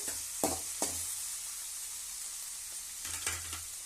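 Quiet, continuous sizzle of potatoes frying in a pan, broken by a few soft scraping stirs; no talking.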